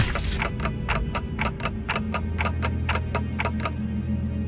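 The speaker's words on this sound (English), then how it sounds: "It's ticking faster" Clock ticking during a Limbus Company game cutscene, with sharp, evenly spaced ticks at a quick, regular pace over a low steady rumble and no talking.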